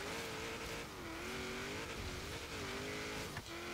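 A 1992 Mitsubishi Galant VR-4 in Forza Horizon 3 accelerating hard, its engine droning steadily with slight dips at gear changes, loud and continuous.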